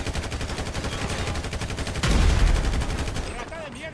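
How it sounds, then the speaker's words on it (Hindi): Gunfire in the GTA video game crackles in rapid, continuous bursts, growing louder and heavier about halfway through, with a voice faintly present underneath. "ये कौन सा गन यूज़ कर रहा है"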